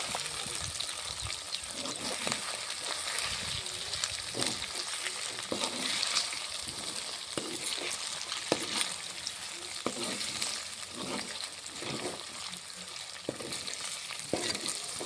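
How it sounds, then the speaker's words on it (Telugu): Chicken and raw cashew nut curry stirred in a pan while cooking in a village setting: a steady, close frying sizzle with repeated scraping and clanking stir strokes, constant throughout with no talking. "రెండు బాగా కలుపుకోవాలి"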